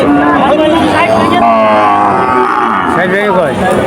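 Several cows moo loudly and close by at a busy cattle market in Jessore, with long drawn-out calls that overlap against a murmur of crowd voices.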